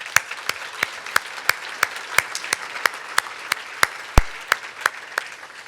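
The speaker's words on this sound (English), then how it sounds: "How about a round of applause?" Sparse audience applause at a regional business breakfast event, a small group clapping in a fairly steady rhythm of distinct, crisp claps close by, one louder clap near the end.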